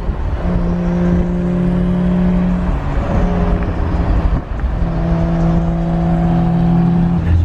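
Catless BMW engine revving with turbo spooling, loud and steady close up, two sustained revs with a droning tone and a brief dip between them.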